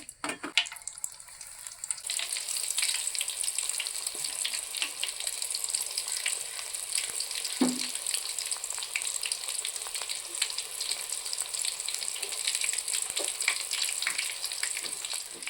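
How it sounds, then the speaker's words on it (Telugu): Prawns coated in biscuit crumbs drop into hot oil and fry with a loud, steady crackling sizzle that begins abruptly and continues, with an occasional clink and no talking. "ఈ విధంగా రొయ్యలన్నీ ఇలా ముంచి నూనెలో అయితే వేస్తాను"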